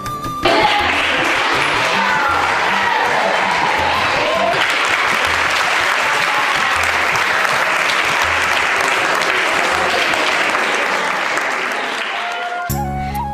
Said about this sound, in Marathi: हसत मुखानं आणि जोरात टाळ्या वाजवून आमचं स्वागत करण्यात आलं